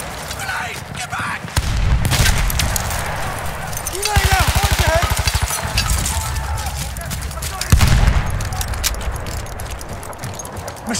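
Machine gun fire in Battlefield 1, loud bursts of rapid automatic shots over a dense din of battle, with in-game voices shouting throughout.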